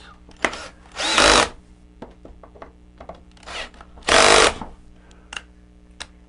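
Two loud bursts of a power drill whirring while building a wooden glue gun holder, separated by quieter tapping and clicking of tools nearby.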